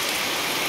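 Torrential rain from Cyclone Montha pours down in a dense, continuous hiss, loud and steady throughout the brief moment with no voices.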